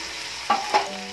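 Mung beans being stirred in a hot frying pan for ginisang monggo, two quick scraping strokes of the spatula over a steady sizzle.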